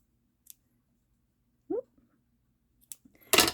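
Scissors snipping off yarn ends, a few sparse close clicks and a short sharp cut near the end, with quiet gaps between and no talking.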